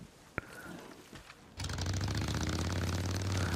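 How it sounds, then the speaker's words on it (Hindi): A motorcycle engine idles steadily in the Days Gone video game, starting abruptly after a quiet stretch and holding a loud, even, low rumble with a busy mechanical rattle for several seconds, no talking over it. "आवाज़ अच्छी है यार इसकी बाइक की वजह से।"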